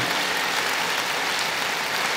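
Dense, steady applause from a church congregation fills the space, a continuous broadband patter of many hands with no pauses and no voices standing out.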